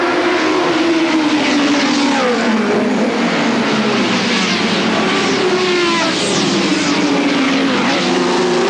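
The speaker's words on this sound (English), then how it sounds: "Into the front straight now for the first time. Have a look at the straight line speed of these bikes." Formula One superbikes from a mid-1980s New Zealand racing series scream down the front straight at around 165 mph, a loud, sustained high-revving engine roar with rising and falling pitch as machines pass close by.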